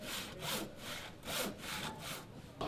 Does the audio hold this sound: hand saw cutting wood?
yes